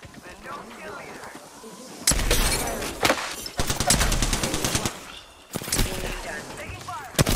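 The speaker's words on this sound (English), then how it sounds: "Taking fire." Automatic and rapid gunfire from the battle royale shooter Apex Legends on PS4 bursts in loud, close, repeated volleys after a quieter opening, with brief pauses between strings of shots.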